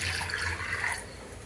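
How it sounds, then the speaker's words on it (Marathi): Water is poured into a pressure cooker holding black peas. A brief, soft splashing pour lasts about a second and a half, then tails off. "पाणी घालायचं"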